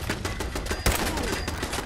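Rapid gunfire from the video game Fallout 4 crackles in a dense, continuous burst of loud repeated shots, with one heavier blast near the middle, close and unbroken.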